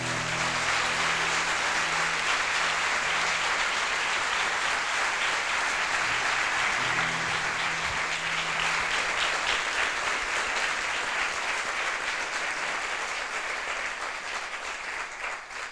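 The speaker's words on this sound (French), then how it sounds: "Merci d'applaudir très fort Lucie Ténière" Sustained, loud applause from a theatre audience welcoming a storyteller to the stage at a live storytelling evening, a dense even wash of many clapping hands that holds steady for about sixteen seconds before starting to fade.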